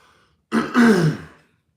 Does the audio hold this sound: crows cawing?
no